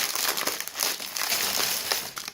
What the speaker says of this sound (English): candy unwrapping